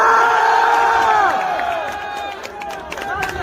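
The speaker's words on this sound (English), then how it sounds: "you can see the crowd freaking out" Crowd shouting and cheering at the Capitol, played back from a recording, a dense roar of many voices with rising yells that ease slightly midway, then swell again.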